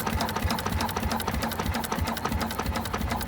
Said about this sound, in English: the engine coasts down against compression